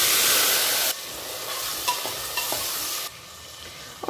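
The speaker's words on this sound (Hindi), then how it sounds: "अब हम इसमें डालेंगे ये हल्दी और ये टमाटर और हरी मिर्च।" Tomatoes, turmeric and green chillies hit hot oil with fried spices and bay leaves. A loud sizzle bursts up first, then settles into a softer, steady fry broken by close stirring scrapes and clinks.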